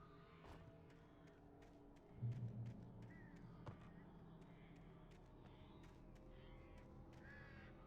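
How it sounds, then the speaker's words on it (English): Crows cawing in the video game Alan Wake Remastered: a flurry of repeated harsh caws over a low ambient game soundscape, with one louder thud partway through. "Here come the fucking crows."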